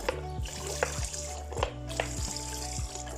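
Water solution glugs and gurgles as it drains from a bottle with a small hole in the cap, a close, rhythmic series of bubbling pulses and splashes with no one speaking.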